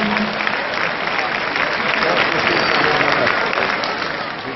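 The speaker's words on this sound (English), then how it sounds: "Big round of applause for Tony." Arena crowd applauding flyball judge Tony Kane at a flyball dog racing event, a dense, loud, continuous wash of clapping and cheering that holds steady and tapers slightly at the end.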